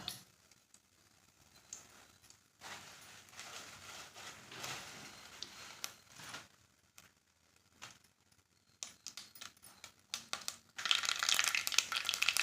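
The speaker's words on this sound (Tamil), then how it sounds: "கடுகு நல்லா பொரியட்டும்" Mustard seeds pop and crackle in hot oil in a pan, with irregular bursts of spattering that grow denser and louder toward the end.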